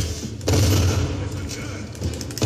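Rapid, loud bursts of gunfire from the stealth video game Dishonored crackle close by, with a thump at the start and a heavier blast near the end.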